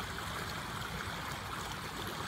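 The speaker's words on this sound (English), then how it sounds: "We've got a whole river going in here." Rainwater rushes along like a small river after a storm, a steady broadband roar of flowing, splashing water filling the whole clip, close and continuous with no pauses.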